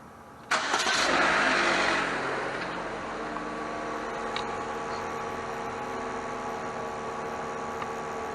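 A cold Pontiac G5 car engine cranks and fires with a sharp burst, revs high for a moment, then settles into a steady idle, close by, with no talk.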